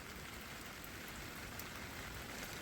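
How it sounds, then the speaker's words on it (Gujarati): Steady, dense rainfall hissing on surfaces, an even wash of sound with no voices, constant throughout. "વરસાદ જો ચાલુ થઈ ગયો છે ધારોડા થવા મીડ્યા છે"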